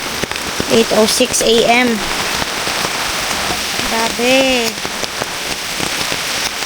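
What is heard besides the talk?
heavy rain falling at a campsite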